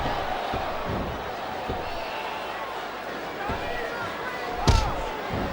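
A wrestling arena crowd in the video game WWE SmackDown vs Raw 2008 roars steadily throughout, with scattered thumps and one loud impact near the end.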